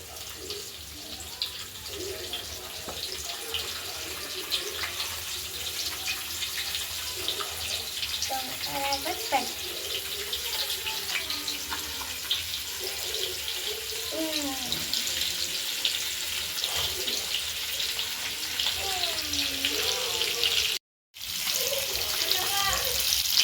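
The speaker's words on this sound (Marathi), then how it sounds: "मसाला लावलेले मासे तेलात टाकून घेऊ" Masala-coated fish frying in oil gives a steady, close sizzle and crackle that keeps going without a break, with faint background murmur in places.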